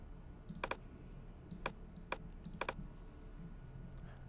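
Soft, sparse keystrokes on a computer keyboard while typing a terminal command, a few quick clusters of clicks spaced over a quiet background with no talking.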